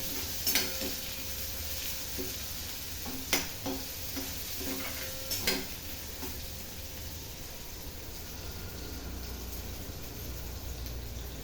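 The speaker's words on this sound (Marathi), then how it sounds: "आपण कांदा लाल हे करून ठेवत राहायचं" Onions fry in a pan until browned, giving a soft, steady sizzle close by, punctuated early on by a few sharp utensil scrapes and taps before settling into even frying with no talk.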